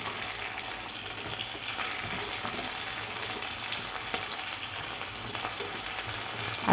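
Tomato frying in a pan of hot oil while a Bengali fish curry is cooked at home, giving a steady, dense sizzle that runs evenly throughout with no talk over it.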